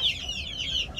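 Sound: chickens clucking on a farm

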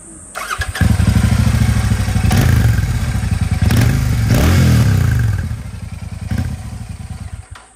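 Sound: Royal Enfield Super Meteor motorcycle stock exhaust sound

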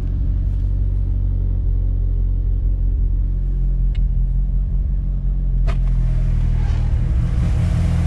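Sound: car engine idling at about 1300 RPM after solenoid replacement

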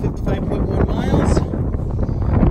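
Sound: wind

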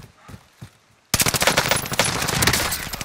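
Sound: gunfire in Call of Duty Warzone video game

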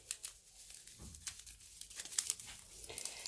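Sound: plastic packet of stevia sweetener being opened

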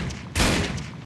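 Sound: gunshots at a light in video game Critical Ops

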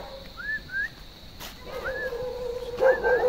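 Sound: dog barking

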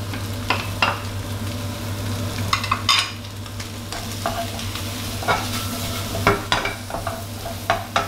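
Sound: shrimp stir-frying with curry powder and onion

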